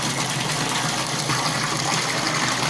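Water pump running at a fish farm, a steady, loud rush of gushing water with an underlying mechanical drone, continuous and unbroken throughout.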